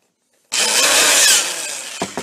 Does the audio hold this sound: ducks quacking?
no